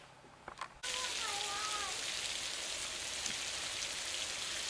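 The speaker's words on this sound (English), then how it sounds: "As you can see, it's pouring heavy acid rain outside this evening." Heavy acid rain pours outside in the evening, a dense, steady hiss that starts abruptly after a short burst of other noise and then holds loud and constant to the end.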